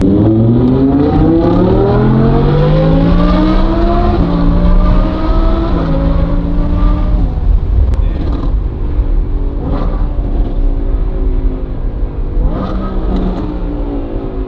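A loud sports car engine revs up through rising gears, roaring close by, then settles into a rough burbling idle with small pops.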